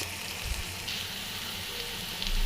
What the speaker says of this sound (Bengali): এবার দিয়ে দেব পেঁয়াজ কুচি আর দিব কয়েকটা কাঁচামরিচ